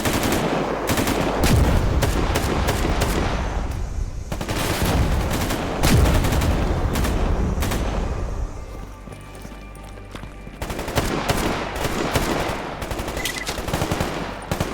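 Exosuit-mounted guns in a survival video game rattle in long bursts of rapid automatic fire, loud and close, with brief lulls between volleys.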